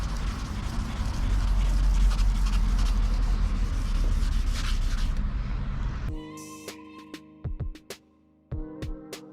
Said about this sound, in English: for the next level of grit, side to side, we'll try and level off the marks a little bit from the previous level of grit